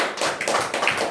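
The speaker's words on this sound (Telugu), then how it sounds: "చప్పట్లు కొట్టి దేవుడు" A congregation claps hands together in a short, dense burst of overlapping claps.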